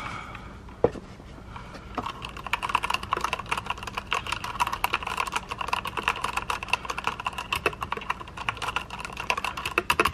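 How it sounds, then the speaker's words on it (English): Typing on a Redragon Draconic 60% mechanical keyboard with brown switches: dense, rapid clacking keystrokes at close range, steady and continuous for about ten seconds with no talk over it. "Oh, these brown switches feel good."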